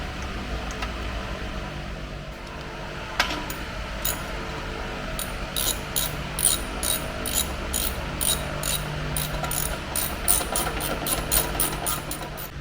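During a C4 Corvette TKX transmission swap, a hand ratchet clicks in quick, uneven bursts while transmission bolts are started, nearby against a soft background hiss.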